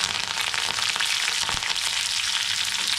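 Garlic and curry leaves sizzle and crackle steadily in hot oil along with mustard seeds and cumin, a dense, close frying hiss with no voices.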